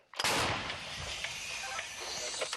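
A single heavy blast from a Ukrainian artillery gun near Bakhmut erupts suddenly, followed by a rolling, echoing rumble that fades slowly over the next couple of seconds.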